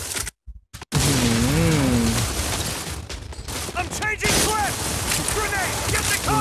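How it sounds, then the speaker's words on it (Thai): Loud bursts of gunfire and a grenade blast fill a Modern Combat 4 firefight, dense and continuous, with chirping effects and someone talking excitedly over the action. "ระเบิดคาหน้าระเบิดหน้าแหกเลยทีเดียว"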